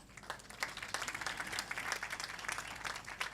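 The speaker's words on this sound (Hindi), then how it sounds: "तो आज भरपूर तालियों में ambassador of love doctor left हेथलैंड की खिदमात को हम सब सराहते" A large audience at a Christmas celebration applauds with continuous, fairly distant clapping that swells slightly and holds steady, with no talking over it.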